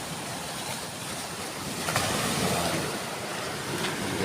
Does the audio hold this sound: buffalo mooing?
no